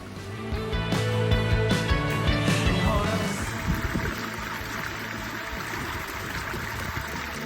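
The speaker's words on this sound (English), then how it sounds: "he's flushing the stream" Water flushes through a backyard pond stream during spring cleaning, a steady rushing and trickling flow heard up close, with splashing and gurgling that settles into a constant wash.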